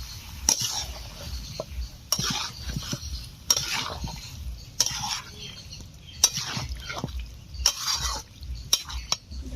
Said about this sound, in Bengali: এখন দিয়ে দেবো আলু। দিয়ে দিচ্ছি আলু।